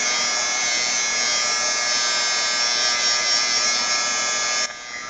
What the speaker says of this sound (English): You need to hit this with a heat gun because this ink will smear until it's dry.